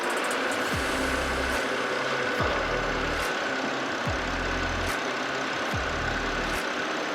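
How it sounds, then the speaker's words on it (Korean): A BMW 328i coupe engine idles steadily, heard up close from the engine bay: an even low thrum with a faint periodic ticking and a light hiss over it. "엔진 소리 일정하고 좋습니다."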